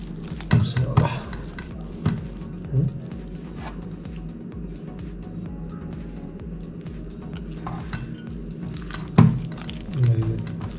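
A spoon stirs pea-flour batter thinned with a little water, soft wet squishing with a few sharper scrapes against the bowl at uneven intervals, fairly close and without talk.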